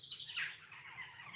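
Small birds chirp faintly in short, high twitters somewhere near a rookery, with no voices over them.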